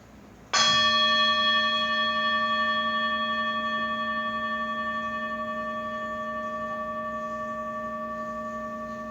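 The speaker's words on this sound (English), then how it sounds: "I will ring the bell, and when it goes silent, I'll begin to guide us through the practice." A meditation bell is struck once, a clear bright strike followed by a long, steady ringing tone that slowly fades toward silence, alone in a quiet room.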